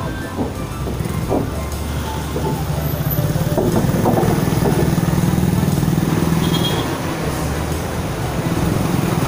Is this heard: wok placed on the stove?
no